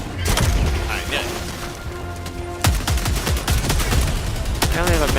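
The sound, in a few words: gunfire in the video game Helldivers 2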